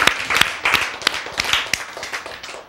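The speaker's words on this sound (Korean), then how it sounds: "아, 박수로 맞으시죠." An audience claps together, welcoming a performer at a Korean church or lecture event: a burst of sharp, fairly loud hand claps in a quick irregular rhythm that stays steady for a few seconds.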